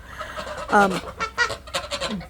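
Several Sebastopol geese honk and call close by in short, uneven bursts, their nasal cries overlapping with quieter chatter.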